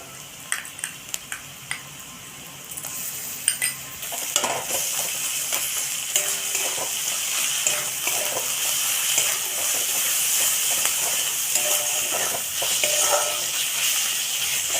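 Crab frying in a pan with ginger-garlic paste just stirred in, for a spicy Bengali crab curry; a few sharp clinks and stirs give way to a steady, close sizzle and hiss that holds to the end.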